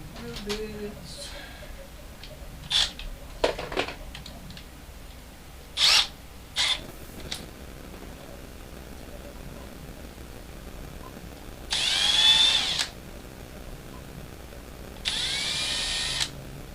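A small power drill fitted with tiny drill bits whirs in two short bursts of a few seconds each, close and steady, separated by quiet stretches with occasional clicks and a voice.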